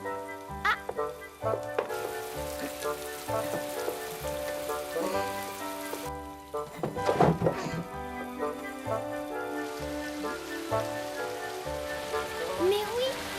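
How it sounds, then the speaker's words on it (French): Rain falling in a scene from a French children's period drama, a steady patter and hiss running the whole way under a prominent orchestral music score, with a brief louder splash of activity partway through. "La pluie, encore la pluie."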